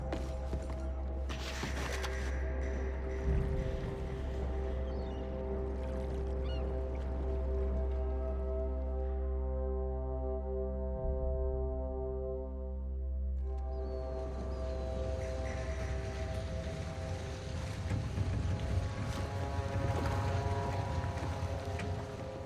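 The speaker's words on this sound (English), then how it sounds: "Cornwall's boat is arriving at dawn." Boat engine droning steadily as the vessel arrives over water at dawn in the video game Red Dead Redemption II, with a low hum and lapping water that fade briefly midway before swelling again.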